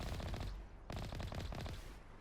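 Turrets firing in the Mass Effect video game, dense rapid automatic gunfire in two bursts with a short break, loud and continuous, no talk.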